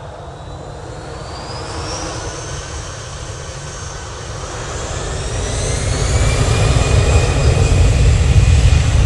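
A jet airliner departing Manchester Airport for Amsterdam roars steadily, a broad engine rush with a rising whine that grows louder toward the end as the plane climbs out.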